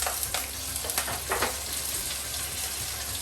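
Curry leaves hit hot oil for misal, a short close crackling sizzle with a few sharp spitting pops.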